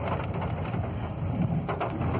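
Rain falling on a car while driving, a dense steady patter of drops on the body and glass with a low rumbling road hum beneath, continuous and close with no talking.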